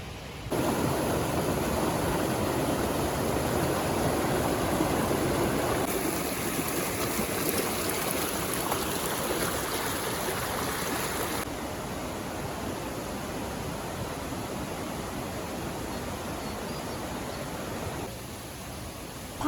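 A river stream flowing on the trail to Sajla Waterfall near Manali, a broad, steady rushing wash of water that holds evenly for nearly twenty seconds, with no talking.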